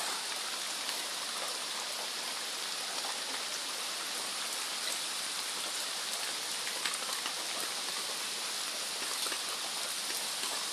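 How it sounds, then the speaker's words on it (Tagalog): Heavy rain pours steadily and loudly, a dense unbroken hiss with no voices. "Walang kahupa-hupa ang ulan mga idol Talagang malakas"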